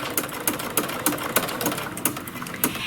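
A sewing machine with a ruffler attachment stitches and tucks fabric, giving a steady mechanical whir punctuated by regular sharp clacks about every third of a second, close and without talk.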